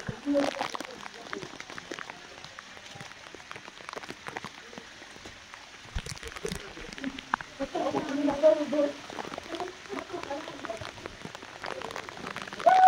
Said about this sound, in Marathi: पाऊस बघू शकतात